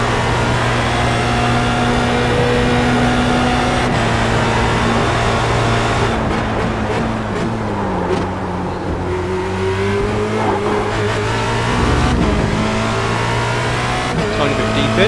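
An FR2.0 race car engine in a racing video game drones at a steady pitch and then dips through downshifts, its revs stepping lower under engine braking, with someone talking over the engine.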